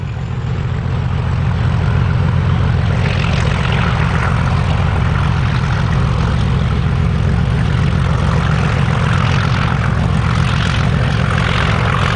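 Class 37 diesel locomotive 37109 in heritage livery pulling away from Yarwell Vale, a loud, close and continuous heavy engine roar with a deep throbbing low end that builds slightly and holds steady, with no voices.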